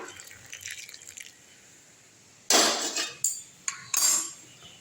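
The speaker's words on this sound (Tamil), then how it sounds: "தண்ணி நல்லா சூடு ஏறிடுச்சுங்க போதும் இப்போ அப்படியே தூக்கி ஊற்றிடலாம்" Hot water pours and splashes in a few short, loud bursts after a quiet stretch, with light metallic clinks of a pan.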